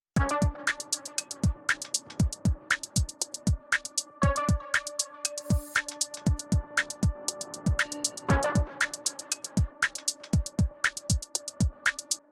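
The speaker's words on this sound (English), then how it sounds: "it starts to clip and distort and kind of fuzz up." A punchy drum loop with ringing tonal layers plays through the Fractal option of a Newfangled Audio Pendulate or Generate plugin, its texture turning rougher and fuzzier in places; close, loud, no voices.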